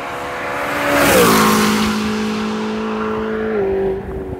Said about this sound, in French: il prend 8500 tours